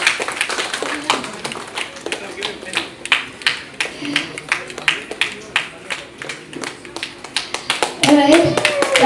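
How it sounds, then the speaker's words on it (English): Audience at a book launch for "The Pink Smoke" claps steadily and fairly close for about nine seconds, a dense patter of hands with some children's voices mixed in and a brief voice rising near the end. "let's give him a huge round of applause"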